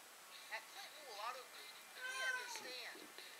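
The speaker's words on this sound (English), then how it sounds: "the cat just meowed in the background" A house cat meows several times in quick succession, soft and somewhat distant, with rising and falling tones in a quiet room.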